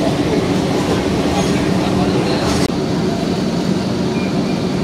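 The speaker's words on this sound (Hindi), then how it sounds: "एटा होची मेट्रो।" A Kolkata metro train runs underground, making a steady, loud rumble of wheels and car noise with a constant roar from inside the carriage and a brief dropout partway through.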